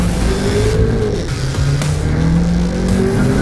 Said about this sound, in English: go little Polo, that's a lot of wheel spin